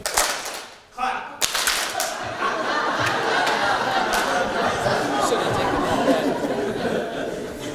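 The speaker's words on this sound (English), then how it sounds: "Clap." A seated audience at an education summit claps together on a count, a sharp burst of applause followed by a sustained wash of clapping, chatter and light laughter in a large room.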